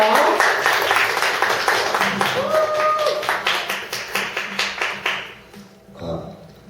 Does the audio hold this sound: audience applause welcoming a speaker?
yes